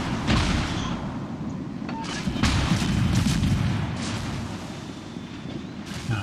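Rapid destroyer gunfire in the naval game World of Warships, under fire from a Benson with a very high rate of fire, forms a dense, continuous rumble of booms and blasts throughout.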